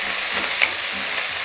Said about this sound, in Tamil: சின்ன வெங்காயத்தை போட்டுட்டு நல்லா வதக்கிக்கலாம்.